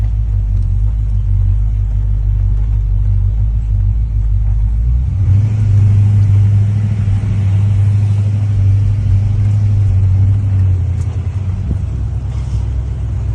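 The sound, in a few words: 1965 Chevrolet Impala convertible engine driving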